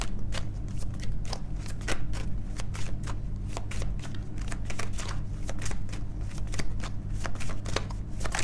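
A deck of angel cards being shuffled during a tarot reading, steady rapid riffling and slapping of cards, close and continuous for several seconds with no talk.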